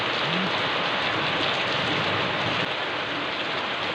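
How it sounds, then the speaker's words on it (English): Steady rain falls in Dehradun, a dense, even hiss of drops that stays loud and close throughout with no other sounds standing out. "Dehradun needs some rain."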